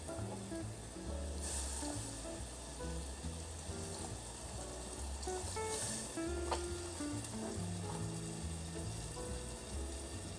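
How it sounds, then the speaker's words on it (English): Chicken stock poured into a pan of shrimp risotto, setting off a steady, fairly loud sizzle and bubbling with a few scraping stirs, heard without talk. "And then in goes our chicken stock"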